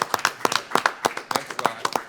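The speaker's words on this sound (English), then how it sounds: "I want y'all to give his mother a round of applause" Scattered clapping from a modest audience at a community resilience summit, a handful of distinct hand claps in an irregular rhythm, close and clear with no voices over them.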